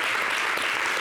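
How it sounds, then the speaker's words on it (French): Brief burst of dense applause from a TV studio audience on an Ivorian variety show, loud and steady for about a second with no speech over it. "La preuve, vous applaudissez pour vos parents"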